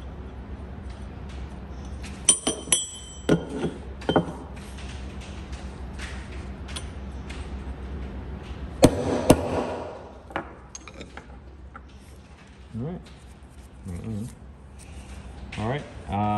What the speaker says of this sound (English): I'm gonna give it a couple extra taps just to be sure.